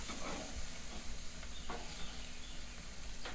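Frozen burger patties sizzle on a grill after their final flip, a soft, steady hiss with a few faint scrapes and ticks, fairly quiet and with no voices.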